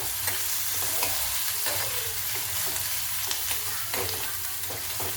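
Onion fries in oil until golden while being stirred, a dense continuous sizzle overlaid with frequent scraping strokes of a spoon against the pan, close and fairly loud, no voices.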